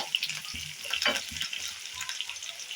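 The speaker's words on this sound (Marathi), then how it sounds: "आता आपण टाकलेली कढीपत्ता, त्याला बी नीट भाजून घ्यायचं चांगलं" Curry leaves, onion, green chilli, mustard seeds and cumin sizzle and crackle in hot oil in a pan, with steady frying hiss and intermittent spoon scrapes as the mix is stirred for kurdai bhaji.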